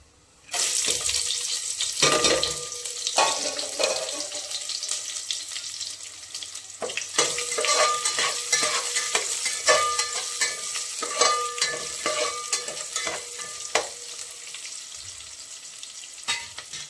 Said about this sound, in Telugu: ఇప్పుడు పచ్చిమిర్చి, ఉల్లిగడ్డ వేసుకుందాం.